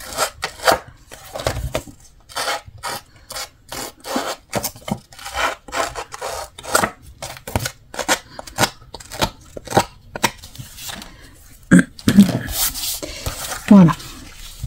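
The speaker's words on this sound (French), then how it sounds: "Donc, je le fais avec mes ciseaux." Repeated crisp snipping strokes of scissors cutting paper, a quick irregular rhythm of short bursts, close by, with a few brief clicks near the end.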